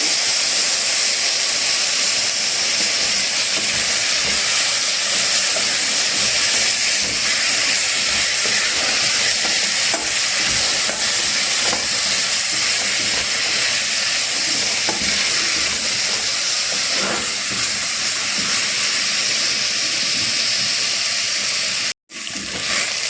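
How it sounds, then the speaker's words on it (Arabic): Onion frying with boiled meat in a pot for an Egyptian zucchini and meat dish, a loud, steady hissing sizzle that runs continuously, close up, with only a brief dropout near the end. "عندي لحمة مسلوقة بنزل عليها في البصلة"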